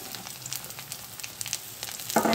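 Potatoes frying in a pan, a steady soft sizzle with scattered crackles and pops that flare into a brighter burst near the end, heard alone without voices.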